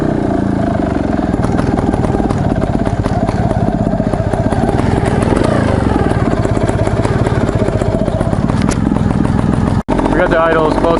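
A trials motorcycle engine idles close by with a steady, loud, slightly uneven putter, a brief sharp knock near the end, and people talking over it.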